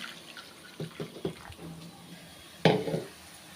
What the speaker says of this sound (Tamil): அந்த தண்ணியை வந்து ஒரு பாத்திரத்தில் ஊற்றிக்கிறேன்